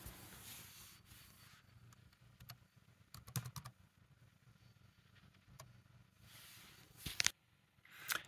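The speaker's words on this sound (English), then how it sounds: "Now that I've typed in the passphrase and they both match" Keystrokes on a computer keyboard while a passphrase is entered during a Qubes OS install, coming in scattered quiet clusters of taps with soft rubbing and a sharper burst of clicks near the end, no talking.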